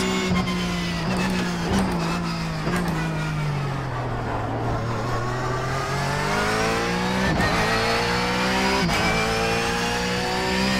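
A Porsche GT3 race car engine in iRacing drones loud and close, its pitch dipping and then climbing smoothly through the gears, with brief gearshift breaks at steady intervals and no talk.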